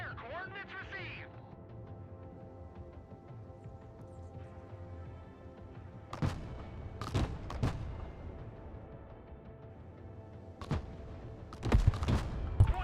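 Artillery fire mission in the video game Broken Arrow: several sharp, loud blasts go off in separate clusters over a steady low battlefield rumble.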